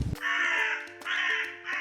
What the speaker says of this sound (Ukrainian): Так, це ворона, вірно.